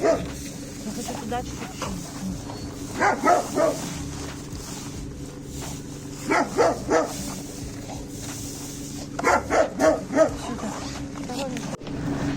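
A dog barks in short clustered bursts several times over steady background noise, fairly close, with some faint whimpering between.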